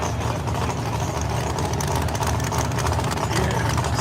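1967 Chevy Nova drag car, missing its front end, with a 640 engine on nitrous at a no-prep drag race: a continuous deep engine rumble with rough, idling texture and constant loudness, no voices.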